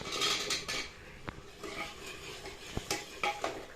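Mushrooms go into cooked masala in a hot pan, bringing a few clinks and scrapes of a utensil against the metal pan and a faint sizzle, quiet and close with no talking.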